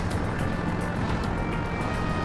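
A car engine in the video game Jak 3 gives a steady, loud drone with a continuous rumble and hiss, unbroken throughout and with no talking.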